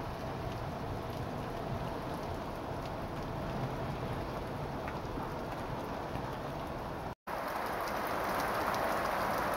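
Steady heavy rain pouring down without letup, a dense broadband hiss of drops on surfaces, with a brief dropout near the end before it resumes.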